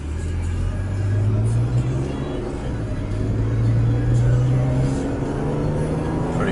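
A 2012 Toyota RAV4 Limited AWD with a V6 pulls away from a stop: a steady engine drone from inside the cabin rises in pitch as it accelerates over several seconds, with road noise underneath.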